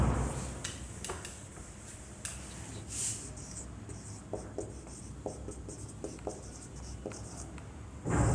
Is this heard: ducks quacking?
no